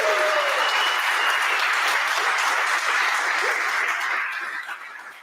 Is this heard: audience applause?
yes